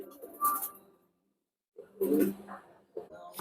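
Pigeons in a high-flying pigeon loft give soft, low cooing calls close by, in two bursts separated by a short silence.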